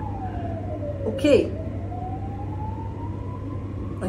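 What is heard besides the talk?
emergency vehicle sirens in a city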